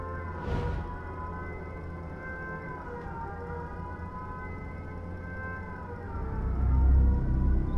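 A vehicle siren in the survival video game H1Z1 wails steadily with sustained, slowly wavering tones over low engine rumble, loud and continuous, with a brief noisy burst near the start and a swell of low rumble toward the end.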